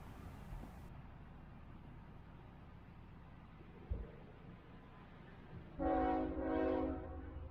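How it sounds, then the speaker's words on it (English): A northbound Florida East Coast Railway freight train with diesel locomotives rumbles steadily in the distance, then a loud two-tone horn blasts near the end, rising over the low rolling noise. "Florida East Coast Railway northbound train 206, crossing in January"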